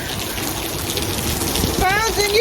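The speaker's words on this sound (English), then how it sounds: "It just keeps on raining" Heavy rain pours steadily during a Florida storm, a dense wash of hiss with a brief whistling tone rising near the end.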